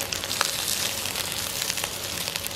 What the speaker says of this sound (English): See the sizzling.